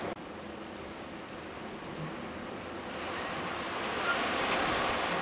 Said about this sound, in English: There's some good wind.